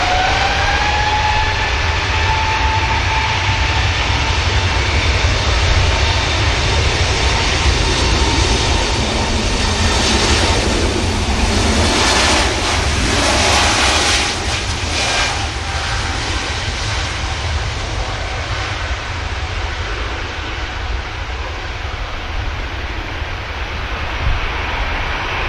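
Lufthansa airliner takes off at Manchester Airport with a long, loud, broadband jet roar that swells and peaks midway before slowly easing off into the distance.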